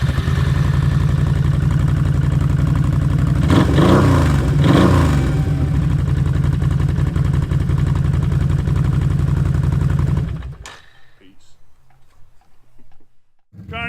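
A motorcycle fitted with an HMF Swamp Series exhaust runs close by with a loud, steady low rumble for about ten seconds, then cuts away to quiet.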